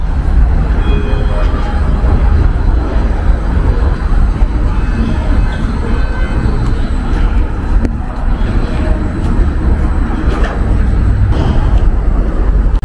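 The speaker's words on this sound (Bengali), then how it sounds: "এই ট্রেনটা আসছে, এটার জন্য দাঁড়িয়েছিলাম" A suspended monorail train arrives at night in Wuhan, its low, steady rumble continuous and fairly loud across the whole stretch, with a faint voice briefly audible beneath it.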